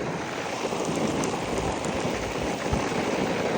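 Steady rain falls around a running 2018 3.5 ton Ameristar heat pump outdoors, a constant broadband hiss with faint droplet ticks and low fan rumble throughout, no talking.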